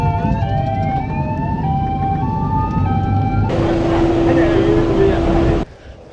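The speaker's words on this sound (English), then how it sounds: "You can hear from the background the sirens blaring, the hearses and the ambulances" Ambulance and hearse sirens blare at a burial held at a cemetery in Accra, several wailing tones overlapping loudly and steadily before cutting off sharply near the end, with traffic rumbling underneath.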